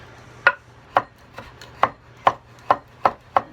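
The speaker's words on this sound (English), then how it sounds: "I'm going to chop that up fine" A knife chopping fresh cilantro on a board, eight crisp, evenly spaced thuds in a steady rhythm, close and distinct against a quiet low hum, no talking.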